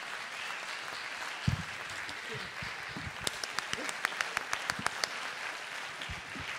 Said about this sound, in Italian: io un applauso al Friuli glielo faccio, evviva!